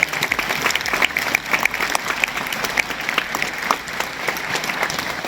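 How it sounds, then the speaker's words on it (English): Students and audience at a school Holi festival assembly clap together in a lively, uneven round of applause with distinct hand claps over a steady crowd wash. "So please give them a big round of applause"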